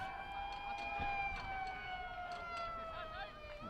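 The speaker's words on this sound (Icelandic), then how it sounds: "Kveikja á sjúkrabíls sírenunum í stúkunni." An ambulance siren sounds from the stands at a Grindavík versus Njarðvík football match, a continuous wavering wail carrying over a distant crowd murmur at moderate volume.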